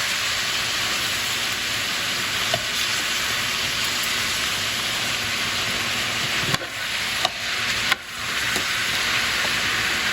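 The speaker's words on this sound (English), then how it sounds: "So we're covering and just allow it to simmer." A covered pot simmering on a stove gives a steady, even hiss throughout, with a few faint clinks near the end.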